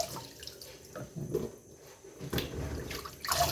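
Water dripping and trickling as washed fish drain in a steamer, a quiet run of soft irregular drips and splashes close by with a slightly louder patter near the end.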